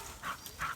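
Two excited dogs about to go for a walk by a flooded river. Two short, high-pitched whines come close together, faint and with no talk over them.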